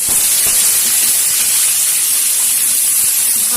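Papaya, potato, gourd and pointed gourd hit hot ghee with a loud, bright, continuous hissing sizzle that holds steady throughout without a break.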